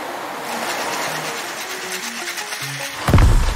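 A homemade toy car on caterpillar tracks driving along, a steady close whirring motor hum with faint rhythmic clicking, ending in a sudden louder thump and rattle.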